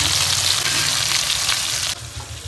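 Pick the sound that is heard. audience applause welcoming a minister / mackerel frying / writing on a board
mackerel frying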